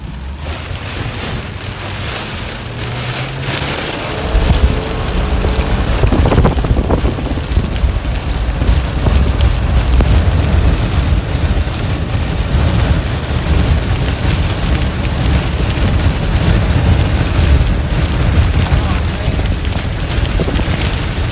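Roaring from a rain-wrapped tornado during a 2019 storm chase: a dense, continuous rumble of wind and rain battering the microphone, loud and unbroken throughout.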